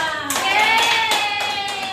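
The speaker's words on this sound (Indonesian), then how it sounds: "tepuk tangan dulu buat Mira." A classroom of students claps for a classmate, a short burst of hand claps heard under overlapping voices.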